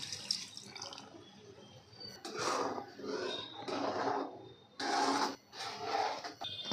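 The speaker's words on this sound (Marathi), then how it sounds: "त्यानंतर आपण थोडंसं पाणी घालूत यामध्ये" Water is poured into sizzling pav bhaji vegetables in a pan, making several close bursts of splashing hiss and bubbling with short pauses between them.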